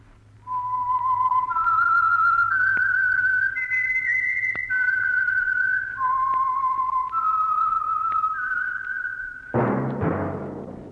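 A lone melodic whistled theme tune for The Whistler radio program, clear sustained notes stepping up and down for several seconds before a loud orchestral burst takes over at the end.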